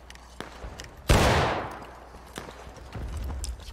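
Musket fire in the Civil War shooter War of Rights: one loud, close blast rings out and decays over about a second, with fainter distant shots popping before and after.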